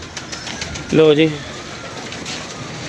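Pigeons coo in a brief, loud burst of throaty, wavering calls close by on a rooftop, with a voice speaking and faint background noise around it.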